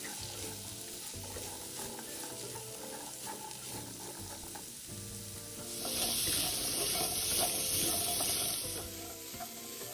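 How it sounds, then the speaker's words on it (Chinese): Taro chunks stir-fried in scallion oil in a wok for steamed taro cake, giving a steady sizzle with scraping and stirring that grows louder partway through. "当芋头煸炒至表面微微焦后"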